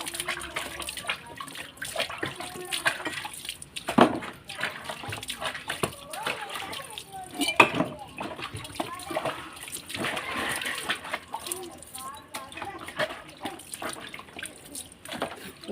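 Water splashes and runs while a brass pooja vessel is washed by hand, a steady close flow with bursts of splatter, under continuous talk.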